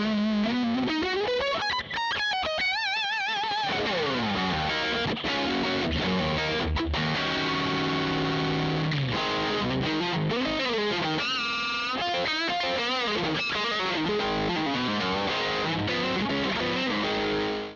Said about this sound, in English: Here you have a lot of distortion.